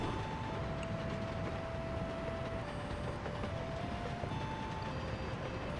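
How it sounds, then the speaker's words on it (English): A freight train rolls along the railway in the Workers & Resources: Soviet Republic video game, a steady rumbling clatter of wheels and wagons with faint high tones on top, continuous and moderately loud throughout. "So this is the first train that we've had on the railway, other than the construction train."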